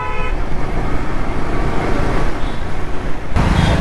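Heavy road traffic crawls across the Chromepet bridge, a dense, steady rumble of engines with horn toots breaking through near the start and end, heard close up from a moving motorbike.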